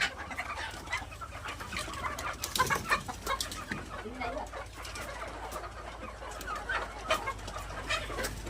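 Laying hens in a chicken shed cluck and squawk in scattered bursts, several birds calling at once under a soft background hum, with someone talking quietly among them.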